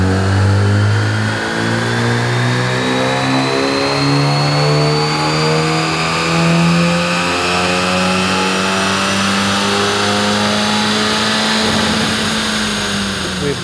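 A 2017 Honda Civic 1.5 engine with a TD03 turbo on high-octane fuel revs on a dyno, a loud sustained run climbing steadily in pitch with turbo whine above the engine drone.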